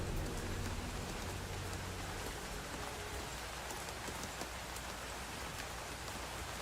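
Steady rain hisses on a surface in a continuous, quiet wash of noise with no other sounds over it.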